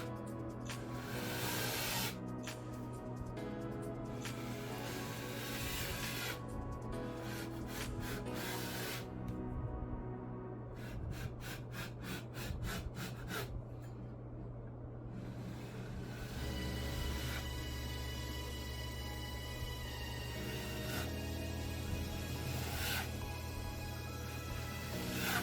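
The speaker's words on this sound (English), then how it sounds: "6-inch knife and gently shave off the high spots" A 6-inch putty knife scrapes and rasps across dried drywall mud in repeated strokes, shaving off high spots, with rhythmic bursts of shaving and short pauses between passes.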